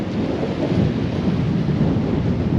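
Heavy rain and gusting wind roar steadily outdoors at Neist Point on the Isle of Skye, a loud, dense wash of noise with no talk.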